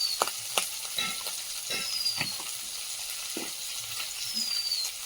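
Greens seasoned with salt and turmeric sizzle and crackle in a pan, with a spatula scraping and stirring in irregular strokes through a continuous frying hiss.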